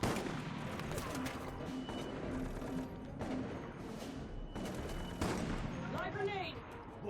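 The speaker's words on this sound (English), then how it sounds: "Just keep shooting at him, I guess." Gunfire in the video game Operation Raccoon City: rapid bursts of shots and heavy booms come in repeated volleys, with players' voices talking over the combat.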